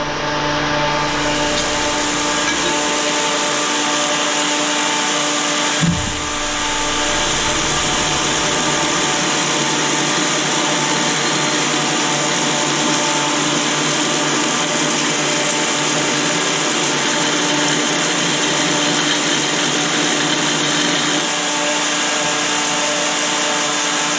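A homemade 2x72 belt grinder for knifemaking runs on its small wheel, a steady loud whine and whir that holds on without a break.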